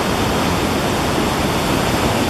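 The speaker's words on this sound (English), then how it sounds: "it was rainy season was certainly reflected in the spectacular water flows in the river" Rain-swollen river at Machu Picchu in the rainy season rushes with a loud, dense, unbroken roar of churning water, steady throughout and close.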